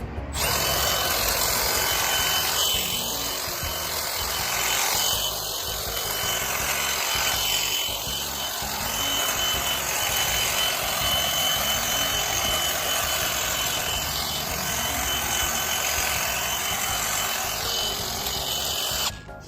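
Milwaukee M12 brushless 8-inch hedge trimmer (kit 2533-21) cutting through overgrown growth, a steady close buzzing motor whine running the whole time with brief dips in pitch as it bites into branches, no talking.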